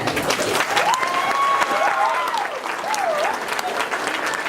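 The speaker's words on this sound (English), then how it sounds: "just a round of applause for them" Guests at a wedding reception applaud the couple with steady, full-room clapping, while a whistle-like tonal sound wavers over the applause and scattered voices murmur underneath.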